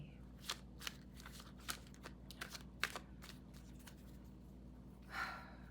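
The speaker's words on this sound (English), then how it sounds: "I've been over here shuffling." A deck of tarot cards being shuffled by hand, giving a run of soft, crisp riffles and snaps spaced irregularly over a steady low room hum, with a brief smoother swish near the end.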